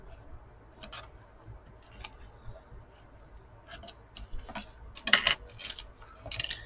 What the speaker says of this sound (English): I'm just going to take my scissors and trim that out